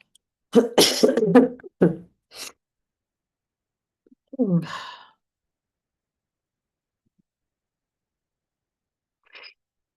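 A woman's cough during a talk, a burst of rough coughs near, then a single throat-clearing rasp a few seconds later and a faint trailing cough, with quiet room silence between.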